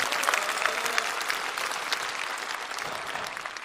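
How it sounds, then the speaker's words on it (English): Audience applause for professionals in a large hall, a broad and steady wash of many hands clapping at once. It stays loud and even throughout, with no talk over it. "Give all of them a big round of applause"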